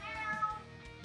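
A cartoonish cat meows in the One Piece Treasure Cruise mobile game, a single short tonal mew heard alone and fairly clear.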